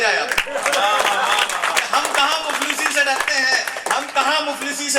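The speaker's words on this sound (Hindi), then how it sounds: "एक बार अपने लिए तालियां बजाया" An audience at a poetry gathering bursts into brief, dense clapping, with voices mixed through the applause.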